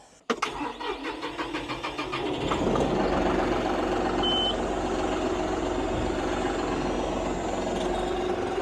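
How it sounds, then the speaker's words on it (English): A TYM T754 or John Deere 5075E tractor cranks with a starter whir, catches and settles into a loud, steady diesel idle nearby, its rumble building as it runs on without talk. "let's crank it up and let's lift the loader to full height"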